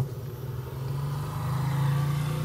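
A refrigerator's compressor motor runs during a bench test, giving a steady low electrical hum that holds even and unbroken throughout, with no voices.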